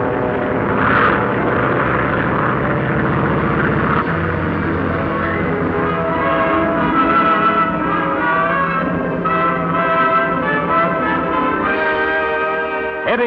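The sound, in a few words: airliner departing, propeller aircraft engines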